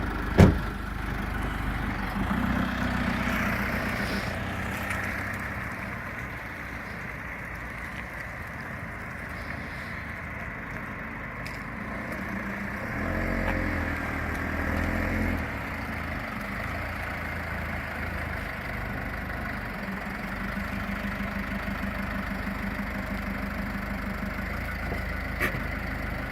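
A vehicle engine, likely a 4x4, idles steadily nearby throughout with a low rumble during a BE driving licence manoeuvre, its level barely changing from start to finish.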